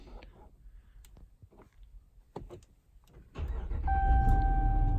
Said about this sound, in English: But if you take your dead key fob and put it up here